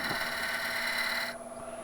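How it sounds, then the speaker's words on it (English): A skew chisel chamfers the end of a wooden workpiece on a spinning lathe, a close, steady rasping cut over the lathe's tonal hum that thins out abruptly near the end of a short burst. "we also want to chamfer off the end again, so I'll just use the skew"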